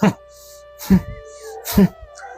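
A voice makes three short, harsh coughing bursts spaced about a second apart, imitating a dog's cough, with low hum in the background.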